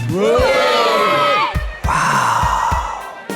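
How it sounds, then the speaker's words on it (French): A crowd at a party in a hall shouts yes together in one loud, drawn-out burst, followed by a second wave of cheering voices. "Un oui général éclate dans la salle."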